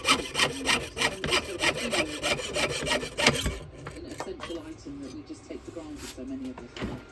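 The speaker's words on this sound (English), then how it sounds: "and then obviously sanding it down to the polish." Sanding a brass pendulum part for a tower clock in a workshop, a steady rhythmic rasping of back-and-forth strokes, loud and close at first, then easing to a lighter, quieter rubbing.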